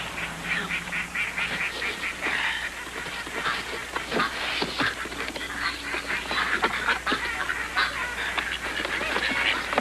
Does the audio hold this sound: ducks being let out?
yes